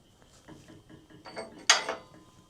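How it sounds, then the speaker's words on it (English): A 12-ton hydraulic press is lowered during rifle barrel pin work, giving a few short mechanical clicks and scrapes with one sharper metallic clunk near the end, close and alone. "I bring this 12-ton hydraulic press down here"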